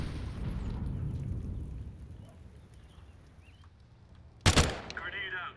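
A sharp, loud grenade blast bursts out abruptly in a shooter video game, standing out against quieter game ambience before and a brief rumbling tail after.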